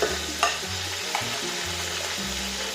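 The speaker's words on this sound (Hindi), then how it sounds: "इनको 2-3 मिनट फ्राई करेंगे।" Tomatoes frying in a pan for aloo matar curry, a steady loud sizzle with a few stirring scrapes on top, no speech.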